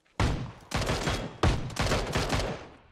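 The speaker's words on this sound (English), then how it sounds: "LOL shotguns." Shotgun blasts in the PUBG video game: four loud booming shots in quick succession, each with a short echoing tail.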